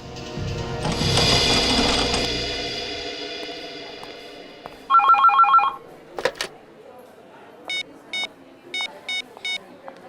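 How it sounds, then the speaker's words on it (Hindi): A telephone rings in short repeated bursts, loud and close, following a stretch of mechanical whirring noise. "आपके लिए फोन है।"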